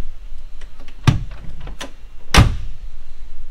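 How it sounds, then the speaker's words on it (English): A car door on an older, old-school styled collector car shuts with two solid thunks, the second louder and heavier, amid quiet handling noises nearby. "this car is like this when you close the door."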